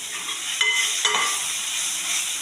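Ginger garlic paste frying in a pan for fish biryani, a steady close sizzle and hiss with two quick scraping stirs of a spoon early on.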